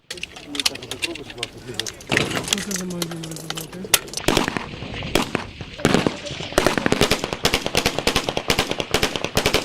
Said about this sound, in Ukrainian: Зараз, приміром, ведуть прицільну стрільбу з Калашникова.